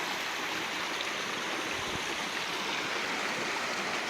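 A swollen creek on a farm rushes along after heavy rain, a steady full hiss of flowing water that is close and continuous, with no one talking.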